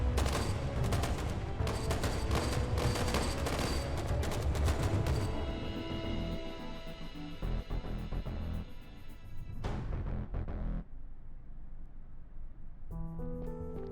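Dense video-game shootout gunfire, rapid overlapping automatic bursts and sharp shots that hammer on for several seconds, then thin out into scattered reports with lingering ringing tones as the exchange dies down.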